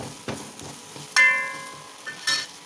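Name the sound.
curry leaves sizzling in hot oil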